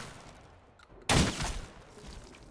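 A shotgun loaded with junk shells fires in Fallout 4, one sharp blast that breaks a quiet moment and fades into a short rumbling tail.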